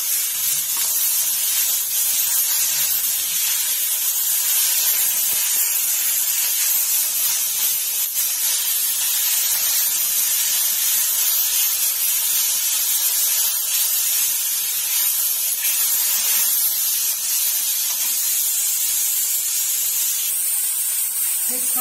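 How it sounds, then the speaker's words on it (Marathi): Tomato sizzling with onion in a hot pan for home-style misal, a steady close hiss of sautéing that runs unbroken throughout. "आपण त्याच्यामध्ये हा टोमॅटो टाकून घेऊया। आपण आता छान परतून घेऊया।"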